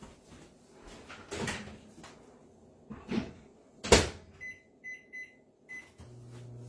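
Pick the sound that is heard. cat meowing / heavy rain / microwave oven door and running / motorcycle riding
microwave oven door and running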